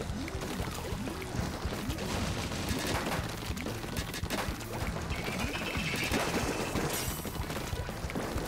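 Dense, rapid gunfire-like splattering from Splatoon 3 ink weapons, including a bubbler, continues for the whole stretch, with repeated pulsing bursts over a busy game background.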